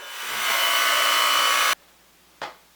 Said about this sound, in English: We're gonna try and put a nice grind on her now, get some of that dirt off.